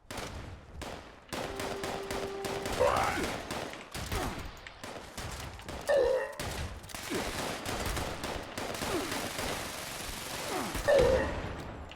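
Gunfire from a weapon in the video game Fallout 76 comes in repeated sharp bursts and single cracks, loud and close, with brief pauses and mechanical reload clicks between shots.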